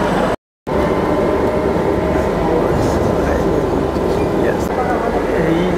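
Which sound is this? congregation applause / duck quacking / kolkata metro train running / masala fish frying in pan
kolkata metro train running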